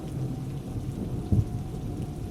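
Steady rain falls through a thunderstorm, with a low rumble of thunder swelling briefly midway; the storm is fairly distant and no one speaks.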